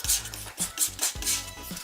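A palette knife mixes oil paint with vermilion, burnt sienna and white on a palette, making repeated close scraping and smearing strokes in an irregular rhythm, with soft clicks as the blade taps the palette.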